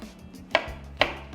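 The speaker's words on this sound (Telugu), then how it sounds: "సో నేను బెండకాయని కూడా యాడ్ చేస్తున్నా. ఇట్లా 1/2 పీసెస్ కింద కట్ చేసుకుందాం." Two sharp knife chops on a cutting board, evenly spaced about half a second apart, as okra is cut into pieces for a mango fish curry; close and clear with no speech.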